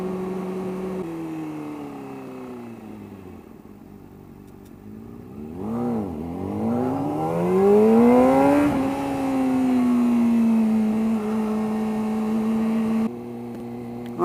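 Vauxhall Corsa engine revving as the car passes close by, a rising and falling whine that swells loudly to a peak, then settles into a steady drone before cutting off.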